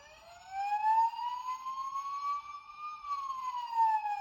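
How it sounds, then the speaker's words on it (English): A Bruder Sprinter toy ambulance siren wails in a continuous high-low pattern, bright and electronic, close by with no talking. "siren 2, which is the high-low siren that you find on most Western emergency vehicles"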